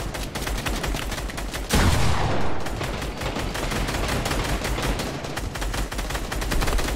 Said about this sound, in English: I'm hearing some weird gun, bro, and I don't know what it is.